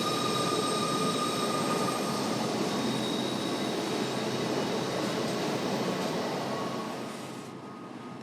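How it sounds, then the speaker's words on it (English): A Canadian Pacific train rolls through the spiral tunnels of Kicking Horse Pass, a continuous broad rumble with faint high steady tones that eases off near the end. "The trains really do curve around on top of themselves inside the mountain."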